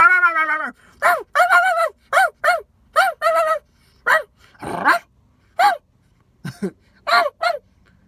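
A person's voice imitates a dog barking, giving a loud series of short woofs and yelps in uneven bursts with brief pauses between.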